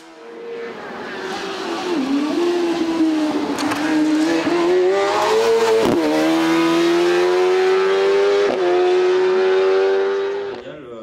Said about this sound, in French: Lucas Clément, le jeune Dromois décroche le trophée des pilotes de moins de 25 ans et la victoire de classe en CM pour la seconde fois cette saison avec son single track BMW